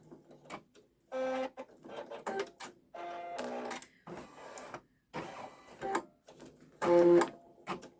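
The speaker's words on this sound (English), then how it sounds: "the vibration of the machine when it's embroidering" A Brother Skitch embroidery machine stitches in irregular bursts of rapid mechanical whirring and buzzing, separated by brief pauses, fairly close and moderately quiet.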